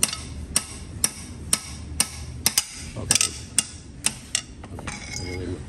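A hammer taps a stuck high-tensile bolt on a Toyota RAV4 engine, about a dozen sharp metallic knocks at a steady rhythm, close and loud, with no talking.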